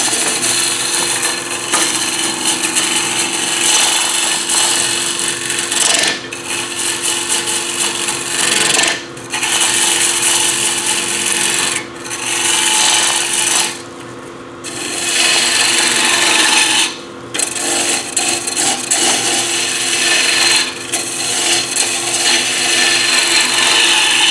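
A hollow vase is turned on a wood lathe with a handle-less 1-inch Carter gouge, giving a steady close rasping scrape that runs almost continuously with a few brief pauses.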